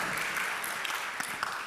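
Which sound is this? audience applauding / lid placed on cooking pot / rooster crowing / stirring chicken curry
audience applauding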